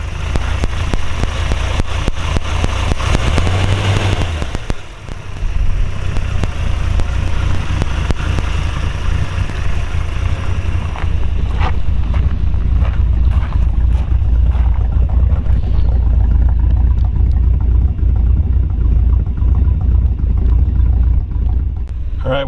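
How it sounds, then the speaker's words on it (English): A Chevy 283 V8 engine in a 1939 Ford Deluxe Tudor sedan idles with a steady, deep rumble and a loping low burble, close and loud, continuing without pause. "Nice little 283 Chevy, just idling away."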